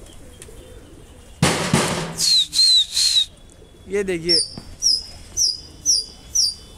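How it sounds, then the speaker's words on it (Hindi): Pigeons from a large loft flock fly overhead on a hot summer afternoon, giving repeated short whistling calls in a steady rhythm after a brief loud burst of wing noise, with someone talking briefly. "कबूतर उड़ते हुए"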